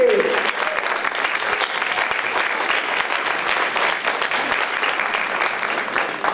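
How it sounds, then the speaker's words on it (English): A conference audience claps hard and continuously, a dense sustained wave of applause filling the room from start to finish. "let's give Lisa Riley and all of her team members a great big round of applause for bringing us together"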